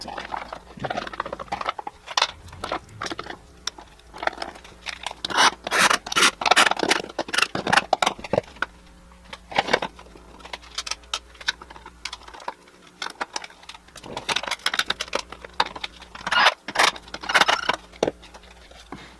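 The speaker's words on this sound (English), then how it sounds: "we're gonna bolt the gas tank and this bracket back down" Bolts securing the gas tank and bracket on a Scotts push lawn mower are driven back down, producing dense close clicking, ratcheting and small metallic scrapes in quick irregular bursts, with brief pauses between them.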